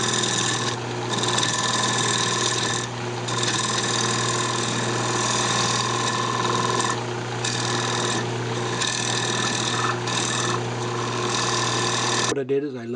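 A wood lathe spins a two-part vase blank while a flat scraper trues its face, a steady whirring hum with rough, scraping tonal layers that rise and dip slightly, close and continuous until it stops near the end.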